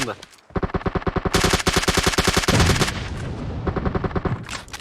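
Gunfire in PUBG Mobile during a tough fight: rapid, loud automatic bursts of evenly spaced shots, broken by brief pauses and then resuming.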